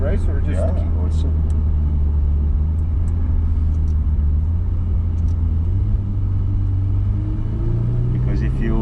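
A Ferrari F8 Spider engine and exhaust accelerating on a straight road, a loud, close, steady rumbling drone whose pitch climbs and shifts through gear changes, with people talking over it.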